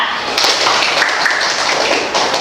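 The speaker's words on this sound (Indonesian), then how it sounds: "kita berikan aplaus untuk kelompok 2" Classroom audience applauding a student presentation group, a dense, steady patter of many hands clapping at once, close and fairly loud, lasting throughout.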